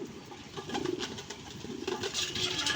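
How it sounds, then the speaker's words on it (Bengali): Pigeons coo softly and repeatedly nearby, a low, steady murmuring with no talking. "কবুতরগুলো খাচ্ছে, আরো খাবার দেই"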